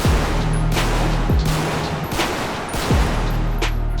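Gunfire in GTA 5 during an ambush on a special operations convoy: a rapid string of loud, sharp shots in irregular bursts, continuous and close with no talking.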